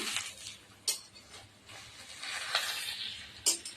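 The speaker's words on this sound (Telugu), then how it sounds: "కాసేపు అయింది, ఒకసారి కలుపుకుందాము" Egg semiya is stirred in a pan, with a few sharp metallic scrapes and clinks of the spoon against the pan over a soft background sizzle; no one speaks.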